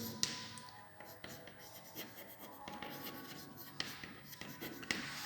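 A pen writing out an answer to an algebra exercise, a soft, close, continuous scratching with a few light taps, no talk.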